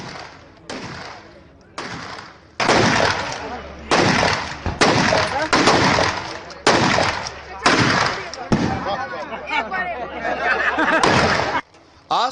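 Rapid bursts of gunfire in a firing practice session by a gangster's teenage son, a crowd of hundreds around; the loud cracks come in a fast, uneven string over about twelve seconds with voices mixed underneath.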